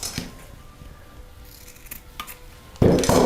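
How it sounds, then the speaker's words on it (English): Scissors snipping through a piece of tulle for a fascinator, a few quiet close cuts and rustles, ending in a louder burst of handling noise. "And I'm going to cut this last piece"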